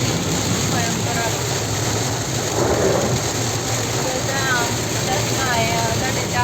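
First rain of the season pours steadily, a dense constant hiss of falling drops on surfaces, close and even throughout, with faint voices murmuring in the background.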